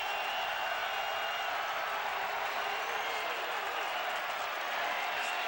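A football stadium crowd at a 1997 Virginia vs North Carolina college game roars steadily for the defense, a dense sustained cheer from many voices filling the whole stretch with no break.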